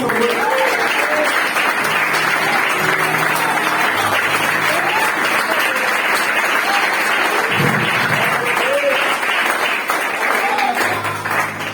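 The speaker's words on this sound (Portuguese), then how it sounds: "que as palmas louvem ao Senhor." Congregation at a Brazilian evangelical church service applauding in praise of the Lord, a loud, dense, continuous clapping that fills the whole stretch, with faint voices and shouts mixed in underneath.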